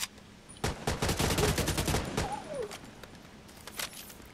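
Rapid bursts of gunfire from The Division 2, a dense volley of loud shots clustered early on that thins into scattered single cracks, with a rising electronic tone passing partway through.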